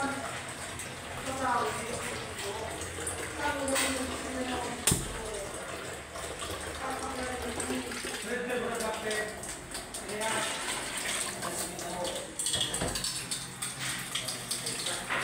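Water pours steadily into a pot for several seconds, a continuous splashing gush with a few sharp clanks and someone talking over it.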